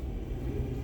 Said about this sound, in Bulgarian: Чувам метрото.